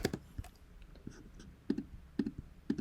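Computer mouse clicking: a few sharp, faint clicks scattered over a few seconds, some in quick pairs, in a quiet room.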